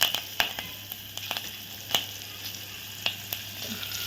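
Green chillies and curry leaves crackle in hot oil for a tempering, with a steady sizzle punctuated by sharp pops and spits, close and fairly quiet, no voices.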